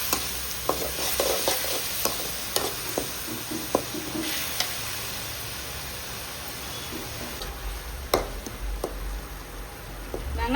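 Onions sizzle steadily in a pan for a country chicken gravy, with irregular scrapes and knocks of stirring throughout a long stretch of close frying.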